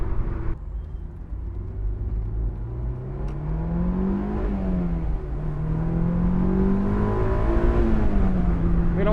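A 2000s Honda S2000 AP1 engine revs while driving, its close, loud tone climbing and falling through the rev range with no talking.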